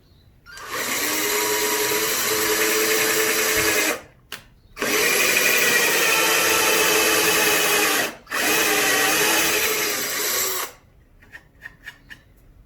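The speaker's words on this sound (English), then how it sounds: "Thereafter, I'm going to drill 2 holes, one in this corner over here, one in this corner" A power drill whines loudly in three long bursts with brief pauses between, drilling holes into pallet wood, followed by a few small clicks and taps.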